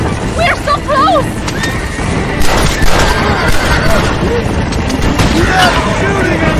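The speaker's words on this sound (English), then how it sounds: "Stop shooting at me!" Gunfire and galloping hooves ring out in a Red Dead Redemption western shootout, with horses whinnying and several loud shots cracking over a steady, busy din while voices shout.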